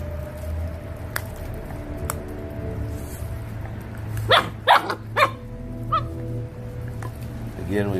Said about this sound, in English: Ravenous horde of Lycan Shepherds devouring a carcass.